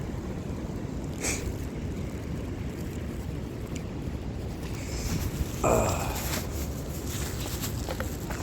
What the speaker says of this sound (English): Yes, indeed, the creek still flows.